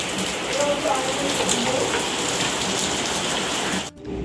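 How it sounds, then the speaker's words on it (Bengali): Heavy rain pours down in a dense, constant roar of drops on surfaces, cutting off abruptly at the end. "বিশাল জোরে বৃষ্টি শুরু হয়েছে বিশাল জোরে"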